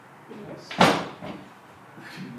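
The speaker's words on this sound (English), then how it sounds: "that door is moving" A door in the Winchester Mystery House bumps and rattles once with a dull knock, followed by faint creaking movement against a low background hum.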